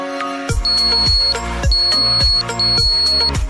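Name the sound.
electric alarm of a 9V battery mouse trap going off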